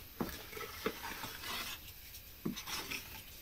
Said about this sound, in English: Now scrape the side of the bowl in.